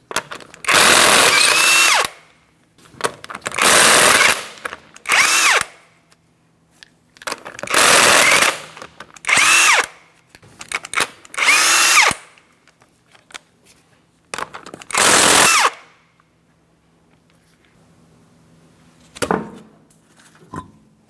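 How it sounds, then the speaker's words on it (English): Impact wrench removing five 19mm lug nuts from a 2004-2008 Pontiac Grand Prix wheel, in a series of loud close bursts of a second or two each, separated by pauses, with a faint hum between them. "remove all 5 of your 19mm lug nuts so we can get the wheel off of here"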